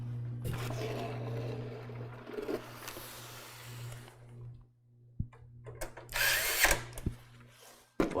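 A power drill drives screws down into a PC case, several short whirring bursts separated by pauses and faint clicks, fairly close and moderately loud.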